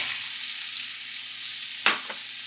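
Onion, celery and apples sautéing in a pan, a soft steady sizzle with a couple of brief stirring scrapes near the end.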